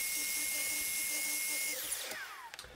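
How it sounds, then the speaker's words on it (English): Power saw cutting repeated trenching passes through the end of a plywood board to clear a rebate, a steady high whine that holds then winds down near the end with a few light knocks. "I'm making repeated cuts through the end of the ply, moving the workpiece slightly each time to clear the rebate"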